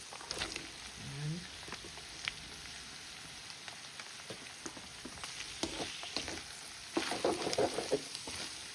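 Hotdogs fry in a pan with a steady soft sizzle and crackle, close by and fairly quiet, with occasional clinks and scrapes of stirring that grow busier toward the end.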